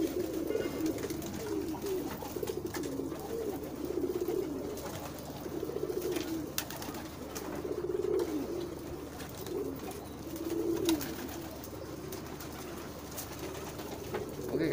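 Pigeons in a box-shaped cage coo continuously, their low throaty rolling calls overlapping in a steady close chorus with faint rustling and no talking.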